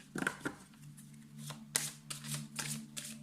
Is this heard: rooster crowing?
no